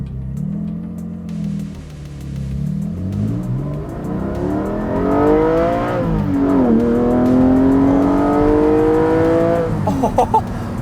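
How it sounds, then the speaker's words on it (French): A Porsche 718 Cayman GT4 launches hard under launch control on a closed road, the engine holding revs, then climbing loudly through the gears with a clear shift and a rising howl, close by. "Petit launch control."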